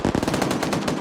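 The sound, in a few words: gunfire in a video game, firing into a bunker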